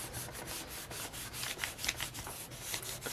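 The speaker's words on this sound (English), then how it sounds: "So I'm just rubbing it in really good." Pattern paper is rubbed firmly onto a recycled binder by hand, making a soft, dry, rhythmic scraping with quick back-and-forth strokes heard up close and alone.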